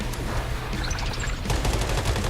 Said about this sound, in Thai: ใช้ปืนอะไรยิงก็ได้นะครับ